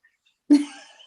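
A single sharp sneeze during an online meeting, sudden and fairly loud after near silence, trailing off quickly.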